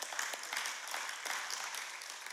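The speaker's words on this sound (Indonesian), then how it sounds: "Yang setuju boleh kasih tepuk tangan buat Tuhan." A church congregation at a Sunday service applauds with quiet, distant-sounding clapping that keeps up evenly throughout.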